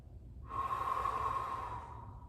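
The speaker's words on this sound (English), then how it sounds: "Breathe in, open mouth, exhale." An open-mouthed clearing exhale at the end of a yoga session, a single soft, breathy rush of air lasting about two seconds, faint and close.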